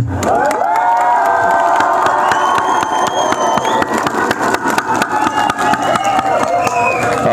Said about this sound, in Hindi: खड़े होके ताली के साथ इनका स्वागत किया जाए